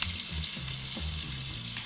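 Ibaïona pork searing in a hot pan, a steady close sizzle of frying that holds without pause, no voices over it.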